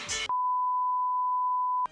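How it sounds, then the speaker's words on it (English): A loud, steady electronic alarm tone holds one pitch for about a second and a half, abruptly starting and stopping, with a brief burst of game noise before it. "Oh god, this alarm."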